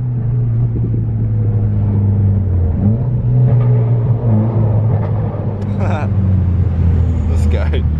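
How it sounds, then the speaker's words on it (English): Nissan on its stock boost controller pulling hard under acceleration, a loud steady engine drone and low rumble inside the cabin for the whole stretch, with occasional voices over it. "first impression with the stock boost controller, it pulls pretty hard"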